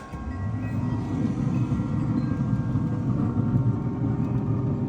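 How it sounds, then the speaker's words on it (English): A Traeger pellet grill runs with a steady, heavy mechanical roar that drones without pause, a deep rumbling whoosh much like a jet engine heard up close. "that Traeger sounds just like a jet"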